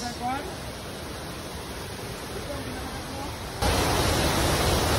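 Balnunto Falls in Colonsabac, Matanao, Davao del Sur, a steady rushing roar of falling water that grows louder and nearer toward the end, with a voice briefly heard at the start.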